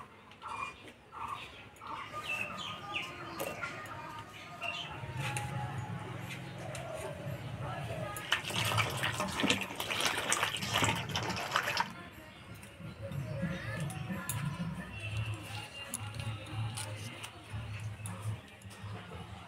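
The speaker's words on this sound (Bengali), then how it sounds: "মিষ্টি কুমড়ার ডোগা আলু বেগুন কাটে নিলাম, এবার ধুয়ে নেব।" Freshly cut pumpkin shoots, red potatoes and tender eggplant are rinsed in water, a soft splashing that swells into a strong, continuous rush for several seconds mid-way, with low voices murmuring around it.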